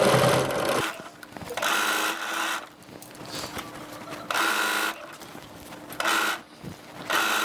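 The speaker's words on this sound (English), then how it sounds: "we're sewing circles" A domestic sewing machine stitching circles in fabric for a witch hat, running loud and close in repeated bursts of fast mechanical whirring separated by short pauses.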